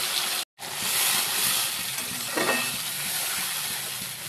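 Onions and a ground spice paste frying in a pan, a loud, close, continuous sizzle broken by a short silent gap near the start, with a stir-like swell partway through.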